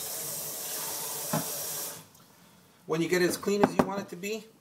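Tap water runs steadily into a bowl while rice is rinsed for steamed and sushi rice, a loud even hiss for about two seconds before stopping, followed by a person talking.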